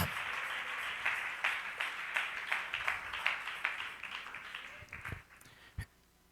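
A church congregation applauds during a Christian sermon, a dense burst of many hands clapping that thins into scattered claps and fades out near the end.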